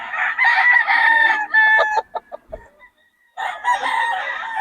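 Gamecock roosters of Sweater and Roundhead breeds crowing loudly and close by, two long crows separated by a few short clucks and a brief pause, with no talking.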